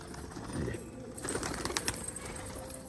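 Pigeons flutter and shuffle in a noisy outdoor setting, with wingbeats and soft bird sounds over steady background clatter.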